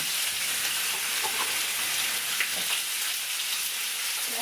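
Ground meat for mapo doufu fries in vegetable oil in a pan, crackling and sizzling steadily and fairly loud, with faint stirring scrapes and no voices.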